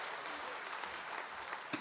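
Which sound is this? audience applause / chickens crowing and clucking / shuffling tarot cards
audience applause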